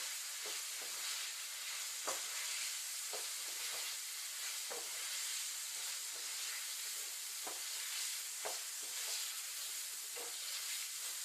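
Taro curry with garam masala sizzles quietly in a pan, a soft continuous frying hiss broken by faint periodic stirring scrapes, with no one speaking.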